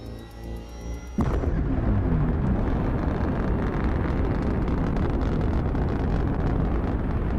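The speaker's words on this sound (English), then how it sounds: "The engine is starting up." An engine starts up abruptly after a short stretch of faint tonal sound, then runs as a loud, steady, broadband roar that fills the rest of the clip.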